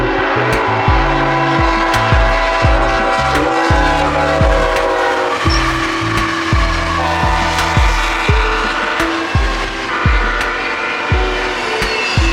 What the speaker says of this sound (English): Another BNSF intermodal train would pass the crossings